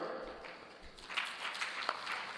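Audience applause at a company annual general meeting as names are read out, a soft, fairly distant patter of clapping that swells slightly partway through.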